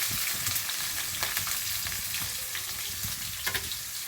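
Chopped onions frying with curry leaves in hot oil for bisi bele bath, a close continuous sizzle with light stirring scrapes, no voices.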